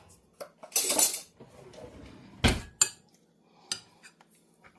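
A spoon clinks and scrapes against a pan of sticky cornstarch-thickened food, a few sharp metallic taps and scrapes spaced apart, close and fairly loud with quiet gaps between.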